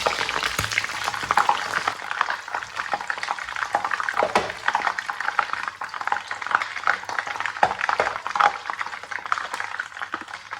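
Dried chilies fry in hot oil in a pan for a Thai fried-egg dish, giving a steady, dense close-up sizzle with bubbling and crackling that runs evenly throughout and has no talk over it.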